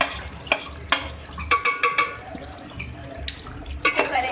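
Spoon stirring onion, yogurt and salt into a pot of chicken biryani, with scraping clinks and soft wet sloshing in irregular bursts, close and moderately loud.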